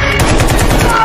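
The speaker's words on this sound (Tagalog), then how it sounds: "binaril ito hanggang sa mapatay." Rapid rifle gunfire in a dense, continuous burst, loud and close, with repeated sharp cracks running through the whole moment and no speech.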